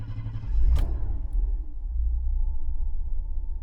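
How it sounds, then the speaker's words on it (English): A Ford Granada Mk2 2.8 Ghia engine starts with a short sharp crank burst, then settles into a smooth, steady low idle rumble. It is close and there is no talk. "Start the engine."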